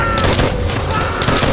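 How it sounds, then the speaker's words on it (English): Rapid gunfire from the Call of Duty: World at War video game, dense overlapping shots and booms filling the whole stretch, with shouted voices mixed in. "Take him down! Good shot, Miller!"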